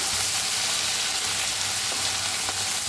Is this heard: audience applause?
no